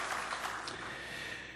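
A church congregation gives warm applause for a newlywed couple, with dense, even clapping filling the room at a steady level from start to end.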